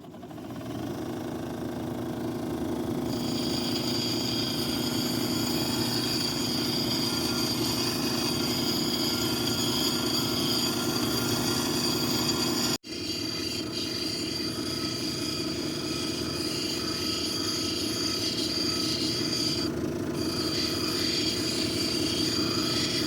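A Kingsley North cabbing machine shaping a Petoskey stone gives off a steady motor drone with a grinding edge, broken once by a brief cut midway, then continuing evenly without speech.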